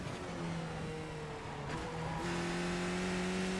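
A Skip Barber race car in the iRacing simulator at Suzuka drones steadily, then its engine pitch jumps upward as it downshifts to third, loud and continuous with no talk.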